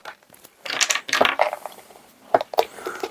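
Dice from a Dice of Fury game poured into a box: clattering rattles of many small pieces tumbling and clicking together in two bursts, close and fairly loud, no speech.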